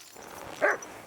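A dog barking in Kingdom Come Deliverance 2 near horses, one short, loud bark after a moment of quiet game ambience.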